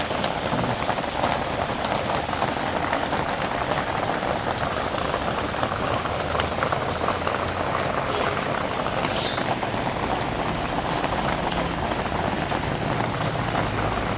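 Steady rain falls outdoors as a dense, continuous patter of drops striking surfaces, loud and even from start to finish, with faint scattered background sounds.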